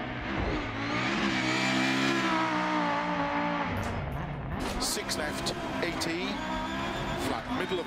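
Rally car engine in a racing video game, either Dirt Rally 2.0 or WRC 8, revs and climbs through gears with tire noise, loud and continuous while someone talks over it.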